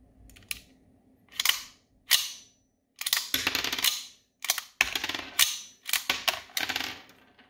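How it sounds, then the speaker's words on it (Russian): A Bruni 92 blank-firing pistol, a Beretta 92 replica, has its slide racked by hand again and again, giving a series of sharp metallic clacks and rattles at irregular intervals, close and clear with no voices. "Отстреливать, к сожалению, нет возможности сейчас оружия, поэтому все это в ручном режиме просто проработаем затвором."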